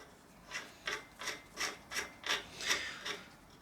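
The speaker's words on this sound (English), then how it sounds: "Now, with a crank extractor, screw in the first housing" A bicycle crank extractor is threaded into a crank arm. It makes about eight evenly spaced rasping, grinding strokes, close and fairly loud, with quiet gaps between turns.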